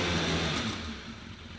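Motorcycle engine held at about half of maximum revs during an MOT roadworthiness check, a close, loud steady drone that eases slightly as it runs, with no talk.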